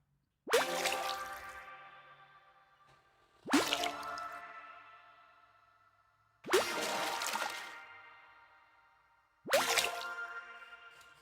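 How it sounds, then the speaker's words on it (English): A designed water ability pickup sound effect: four separate splashy water drips, evenly spaced, each a sharp wet hit that rings out and fades with a shimmering tail. "this cool water ability pickup kind of sound effect that I made here"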